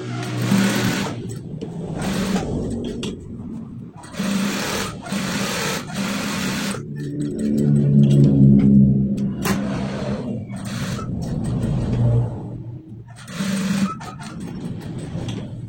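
A sewing machine stitches all the way around the cuff of a school uniform sleeve, running in several steady bursts separated by short pauses, close and alone with no talking.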